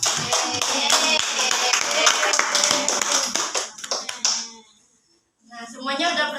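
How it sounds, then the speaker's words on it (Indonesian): Pupils in a classroom clapping for a correct answer: a burst of quick, rhythmic handclaps, loud and close, fading out after about four seconds into near silence before a voice resumes. "Tepuk tangan."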